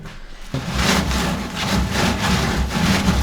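A power sander works over a badly stained surface, making a steady, loud abrasive whir with rough scraping texture that starts abruptly after a brief quiet moment and continues throughout.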